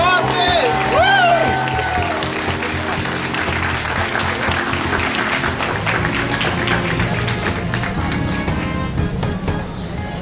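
Sustained audience applause with scattered cheers at a middle school class of 2021 moving-up ceremony, a dense steady clapping wash lasting throughout, with a voice speaking briefly near the start.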